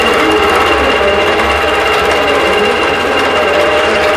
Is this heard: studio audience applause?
no